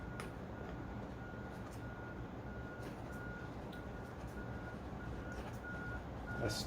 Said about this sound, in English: the bulldozer beeps when it backs up. So you'll be hearing that beeping sound periodically.